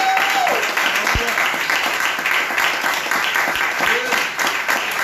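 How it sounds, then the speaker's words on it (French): A church congregation claps and cheers together at a Sunday service in Pointe-Noire, steady applause with voices shouting over it, fairly loud and close. "nous allons encore l'acclamer très très fort"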